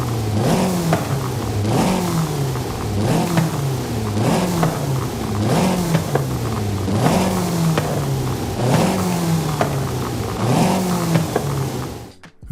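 A car engine with a stock flywheel in Forza Horizon 5 revs repeatedly, rising and dropping about eight times in a steady rhythm, loud and close with no talk.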